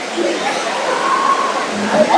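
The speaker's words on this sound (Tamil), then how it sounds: "ஃபால்ஸு தண்ணி வந்து ஃபுல்லாக வந்துகிட்டே இருக்குது" Steady broadband rush of a waterfall at Kolli Hills in full flow, loud and continuous, with a person talking over the spray.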